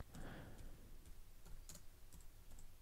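Fingers typing on a computer keyboard, quick irregular key clicks near and fairly quiet, with a short burst of faster keystrokes partway through and no talking.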